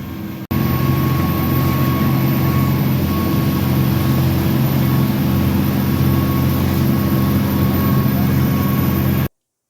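A dive boat's engine drones steadily and loudly far out on the open ocean off Myrtle Beach, a constant low rumble with wind and water noise, no talking, before cutting off abruptly at the end.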